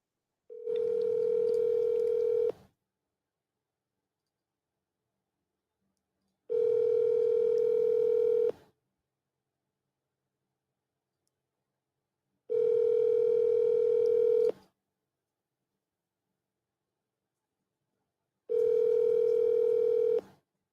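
Telephone ringback tone heard while placing a cold call to a lead in Austell, Georgia: four steady, loud rings of about two seconds each, separated by roughly four-second silences, with no talk over them.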